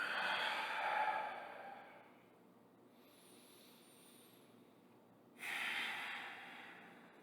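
Deep, slow breathing during a hip stretching exercise: a long airy exhale, a quiet pause, then another breath drawn in, close to the microphone and unaccompanied by talk.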